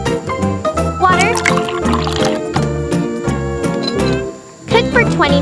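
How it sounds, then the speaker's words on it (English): Water poured into a miniature cooking pot, a bright trickling and splashing fill with small clinks from the tiny pot, close and clear over steady background music. "Water."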